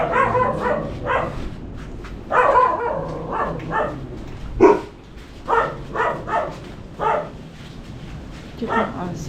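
A dog barks in short repeated bursts through a rural Batangas setting, under steady chatter from several people talking nearby.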